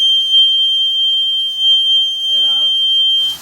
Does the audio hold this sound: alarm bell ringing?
yes